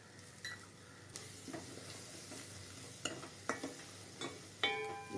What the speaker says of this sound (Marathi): तर आता हा फास्ट गॅसवर आपण काय करायचंय की हा मसाला छान परतून घ्यायचा